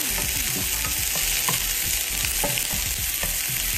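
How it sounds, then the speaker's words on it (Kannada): Chopped onions fry in a hot pan, a steady dense sizzle running throughout with repeated scraping strokes of a spatula at a fairly even rhythm, close and loud, no voices. "ಆನಿಯನ್ ಹಾಕ್ಕೊಳ್ಳೋಣ. ಸ್ವಲ್ಪ ಇದನ್ನು ಫ್ರೈ ಮಾಡ್ಕೊಳ್ಳೋಣ."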